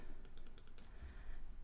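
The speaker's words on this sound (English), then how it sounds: "Obviously I'm not typing anything properly, I'm just putting X's." Quick clicking keystrokes tap out on a computer keyboard in a steady, close rhythm, a short run of key presses with a slight pause near the end.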